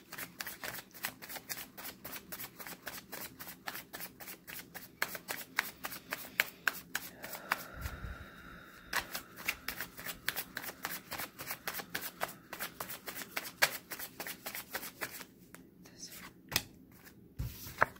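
Tarot cards are shuffled close up in rapid, crisp riffling bursts that go on for the whole stretch, quiet but clear, with a few soft pauses and small hand noises between runs.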